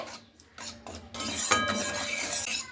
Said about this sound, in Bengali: এবার আমি ভালো করে এগুলোকে নাড়তে থাকবো